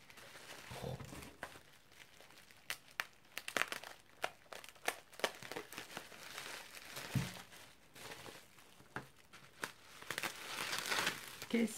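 Recycled paper packaging on a parcel is unwrapped by hand, giving irregular crinkling, crumpling and tearing rustles that come close and loud in bursts, with a person talking quietly at moments.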